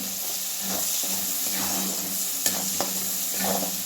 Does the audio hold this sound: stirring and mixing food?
yes